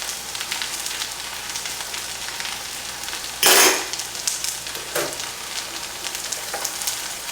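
Butter and hash brown potatoes frying in a pan, a steady soft sizzle throughout, broken once by a brief louder clatter or stir and a few lighter knocks afterward.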